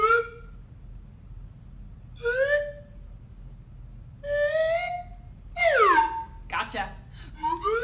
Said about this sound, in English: Wonderful job with the slide whistle.